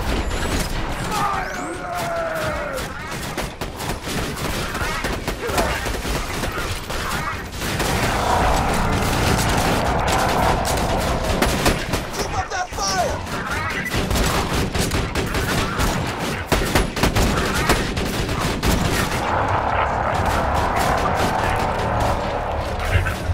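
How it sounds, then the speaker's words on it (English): Sustained video game gunfire as players keep shooting robots, a dense stream of rapid shots and mechanical clatter running throughout, with voices talking over the battle at intervals. "you two stay here and keep shooting those robots"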